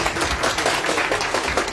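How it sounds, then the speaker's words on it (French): Audience applauding at a press conference of a political movement, a dense, continuous burst of many hands clapping, close and steady throughout the short stretch. "Applaudissez, applaudissez."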